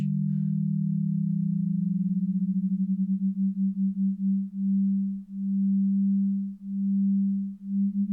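Two steady low pure sine tones slightly off pitch from each other, starting with a fast warble, then slowing into a clear pulsing beat, swelling and fading every second or so.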